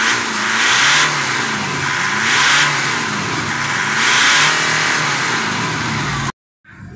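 Diesel engine of a 2010 Mitsubishi Dakar revved in a few repeated throttle blips, rising and falling with a steady idle between, loud and close, then cut off abruptly near the end.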